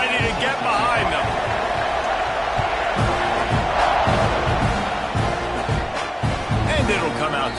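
Football stadium crowd roaring at kickoff of a Texas A&M game, a loud sustained wall of cheering and whoops with thumping sounds throughout and a commentator's voice over it.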